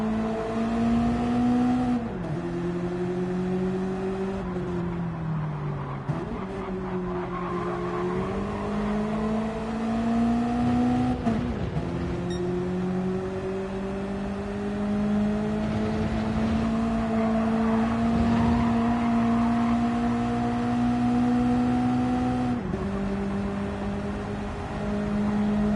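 Onboard a Mazda MX5 race car at Blue Moon Bay, the engine drones loud and steady with rising and falling pitch through gear changes and lifts, other MX5s audible nearby, no talk.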